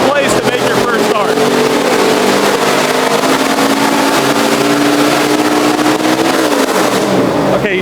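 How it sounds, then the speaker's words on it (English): A NASCAR race car engine revs loudly in a garage at Martinsville during tuning, holding a harsh, sustained roar with a wavering pitch before dropping off near the end, close with faint talk beneath. "They're tuning the engine on this thing to get the timing right."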